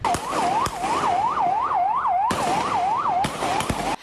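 A police car siren wails in fast rising-and-falling cycles, loud and close, on a university campus at night, broken by several sharp gunshots.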